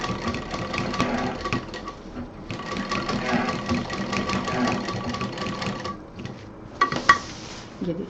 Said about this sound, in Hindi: मशीन एकदम नज़दीक में चलाएं।